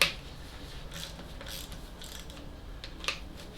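A hand ratchet clicks faintly as it loosens the rocker shaft bolts on an engine during cylinder head removal, a soft, brief scattering of ratcheting ticks with a sharper click near the end.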